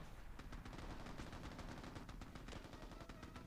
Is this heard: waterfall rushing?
no